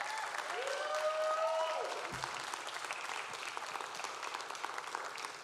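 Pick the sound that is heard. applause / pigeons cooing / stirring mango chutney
applause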